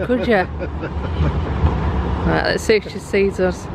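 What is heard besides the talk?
tram passing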